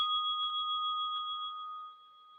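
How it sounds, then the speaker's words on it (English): A single bell tone rings out clear and sustained, its pitch holding steady as it slowly fades away with no other sounds around it. "I can still hear the sound of the bell"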